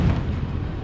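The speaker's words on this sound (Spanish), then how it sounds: "¿Qué serán esas explosiones?" A dull, low rumbling boom of distant explosions near the Costa Rica border rolls out briefly, muffled and distant, fading into a low background roar.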